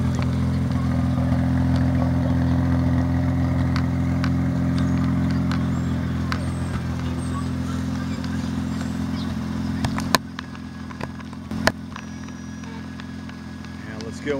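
A Mazda's engine idles through a high-performance cat-back stainless steel exhaust, a steady low rumble held close throughout, with a few brief knocks near the end.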